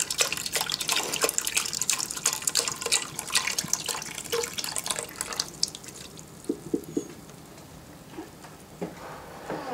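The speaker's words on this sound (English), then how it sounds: "We're going to put 4 cups of broth." Broth pours from a container into an Instant Pot, a splashing liquid stream that tapers into lighter drips and trickles toward the end.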